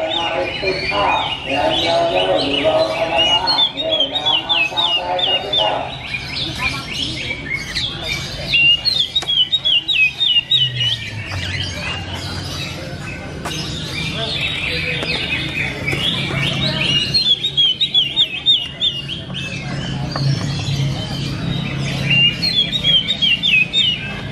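A canary sings in rapid chirping trills and warbling phrases, rising and pausing in bursts throughout, with faint human voices now and then in the background.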